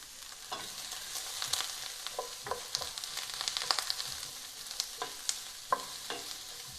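Leftover onions, broccoli stems and a little carrot fry for fried rice, giving a soft continuous sizzle dotted with sharp crackles and stirring scrapes.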